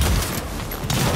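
Shotgun fire in the fast-paced video game Evil V Evil: a loud, close burst of blasts and booms filling the whole short moment, with no talk over it.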